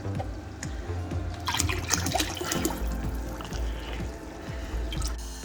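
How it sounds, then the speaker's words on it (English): Vinegar poured into an empty Innovative Marine SR-120 aquarium tank, a steady splashing, gurgling stream of liquid close by with bubbly trickles running throughout, no voices. "Got the vinegar to pour in there."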